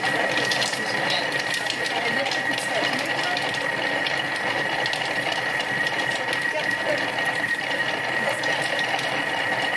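A Thermomix runs at speed 4, mixing chicken and vegetable crumble with a steady, loud mechanical whir and grinding rattle that lasts throughout, with people talking over it.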